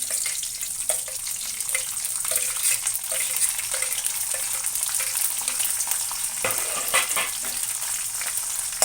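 Sweet corn fries in hot oil with green chillies and curry leaves for an okra and potato curry, a loud, dense sizzle with repeated spatula stirs and a sharper burst of crackling toward the end, no speech.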